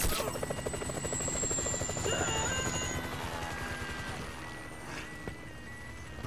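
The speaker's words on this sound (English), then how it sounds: "that chopper" A helicopter hovers nearby during a biker rampage mission in Grand Theft Auto V, its steady rotor thump and engine drone loud throughout, with brief sharp bangs mixed in.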